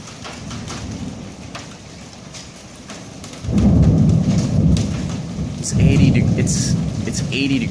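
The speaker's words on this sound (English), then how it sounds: "Now we go out the other side of the storm and you get hit with lightning again." Thunderstorm from a supercell with heavy rain pounding steadily and close lightning strikes, loud thunder crashes swelling in two bursts midway and near the end, hail possible, no talking.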